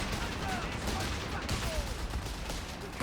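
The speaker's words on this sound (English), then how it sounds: "Only the MG42 could do that." Bursts of MG42 machine gun fire crackle in Company of Heroes 3 during a 2v2 match, sustained rattling gunfire and distant battle noise running steadily under the game mix.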